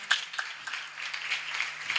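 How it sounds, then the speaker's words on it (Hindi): A church congregation applauds during a sermon, a dense, steady wash of many hands clapping at moderate volume that carries on evenly for about two seconds. "मैं चाहूंगा खुदा के खादिमों के लिए जोरदार तालियां बजाएंगे"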